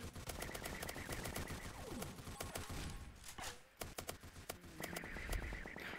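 A turret in the Polyguns video game fires repeated bursts of rapid shots, sharp cracks broken by short pauses and brief in-game noises, with no talk.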